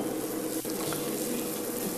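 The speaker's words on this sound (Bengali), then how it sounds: "পেঁয়াজটা ছাকা তেলে লাল লাল করে ভেজে নিতে হবে" Onions deep-frying in oil for beresta, a steady close sizzle and bubbling with a faint tap of a utensil partway through.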